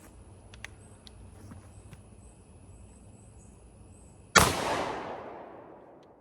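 Shotgun firing Federal triple aught buckshot at a plywood target from 7 yards outdoors, a single sharp, loud blast with a long rolling decay, preceded by quiet ambience with insects chirping.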